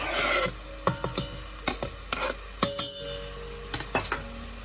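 Garlic is stirred into onions sautéing in olive oil in a pan for lentil soup. Close, repeated scraping strokes of a utensil against the pan come in uneven bursts over a soft background hiss, with no talk.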